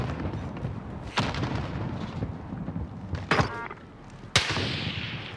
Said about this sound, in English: Wow, I almost killed myself with my grenade.